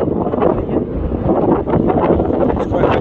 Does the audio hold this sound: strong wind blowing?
yes